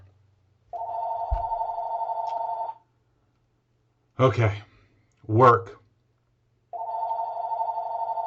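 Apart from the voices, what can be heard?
telephone ringing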